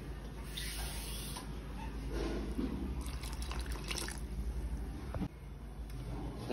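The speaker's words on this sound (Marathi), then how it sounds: "तर याच्यामध्ये पाणी घालायचं आहे।" Water poured over dried fish in a bowl makes a soft, steady splashing and trickling, faint and fairly close, with a few drips near the end.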